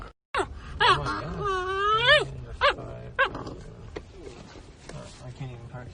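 A dog whines close by in rising and falling high-pitched wails, with short yelps and gasping breaths breaking up the sequence before it tapers off.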